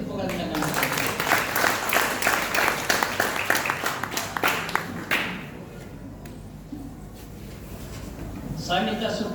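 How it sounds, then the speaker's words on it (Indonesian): Guests at a church wedding clap together in a loud, quick burst of applause that fades after about five seconds, leaving a quieter room before a voice speaks. "Beri tepuk tangan."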